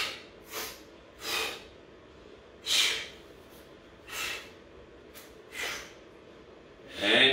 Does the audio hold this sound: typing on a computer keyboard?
no